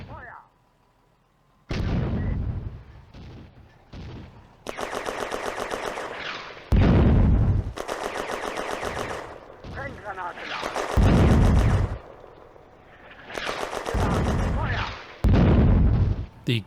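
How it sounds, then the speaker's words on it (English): Mortar rounds from a German Granatwerfer crash into a farm building during a World War II game battle on the Eastern Front, mixed with repeated bursts of machine-gun and rifle fire. Loud, dense volleys come in clusters separated by brief lulls. "The Granatwerfer mission scores some direct hits on the building."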